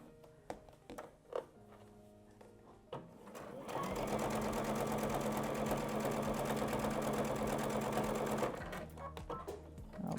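A sewing machine back-stitches the lining of a quilt coat, first in a few short bursts, then running steadily and loudly for about five seconds before slowing to a stop.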